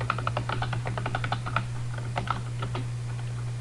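Quick bursts of keystrokes on a computer keyboard while HTML code is typed, close and clear, with a steady low electrical hum underneath and no talking.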